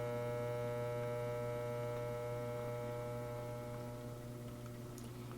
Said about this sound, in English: I'm going to let that go through my laminator